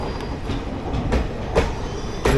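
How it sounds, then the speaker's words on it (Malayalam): The Mumbai CSMT–Amritsar Express passes close by, heard loud with a heavy rolling rumble and repeated clickety-clack of its wheels over the rail joints. "ഇത് മുംബൈ CSMT അമൃത്സർ എക്സ്പ്രസ് എന്ന് തോന്നുന്നു കേട്ടോ."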